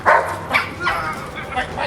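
A dog lets out several sharp, yappy barks in a quick irregular series, loud and close, with some whimpering tone between them.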